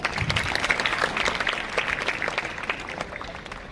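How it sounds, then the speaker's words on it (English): Students and guests at a school investiture ceremony on Carmel Day clap in a lively round of applause, strongest at the start and then easing slightly but continuing to the end. "Please give a big round of applause."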